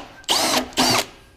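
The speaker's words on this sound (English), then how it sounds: "We're gonna fucking drill a hole right in your car." A power drill bores a hole into a car body in two loud, close bursts of whirring, each about a quarter to a third of a second long, separated by a short pause.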